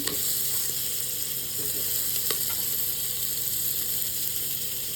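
Onion and mixed vegetables sizzle and fry in a pot for chicken soup, a steady broadband hiss with faint crackles throughout, close and fairly loud with no talking.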